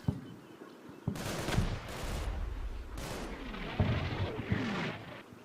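Artillery fire mission in the WWII tactical game Combat Mission: Battle for Normandy, a series of heavy booming shell bursts in uneven succession, loud and rumbling, with no talk over it.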